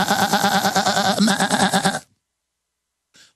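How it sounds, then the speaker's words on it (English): Sheep bleating sound effect: a dense run of wavering, quavering bleats fills the first two seconds, loud and close, then cuts to silence with a brief faint tail near the end. "Braying little Obama bot sheep"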